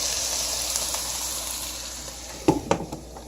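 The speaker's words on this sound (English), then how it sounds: "You can hear the sizzle, and you can see it right there." Constant bright sizzle of mushrooms frying in a pan, close up, with a few sharp clatters of a utensil near the end.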